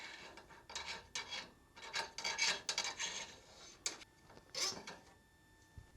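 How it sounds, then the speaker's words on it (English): A handmade hand scraper rasps inside the front suspension bores of a Porsche 356, making short, uneven scraping strokes that are close and fairly quiet, with brief pauses between bursts. "This is the little scraper tool I made to clean out these bores."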